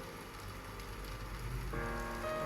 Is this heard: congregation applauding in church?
no